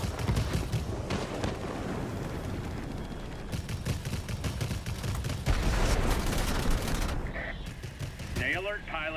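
Rapid cannon bursts from a Supermarine Swift jet fighter in World of Warplanes, loud continuous fire layered over engine roar and explosions throughout, with a short radio-style voice near the end.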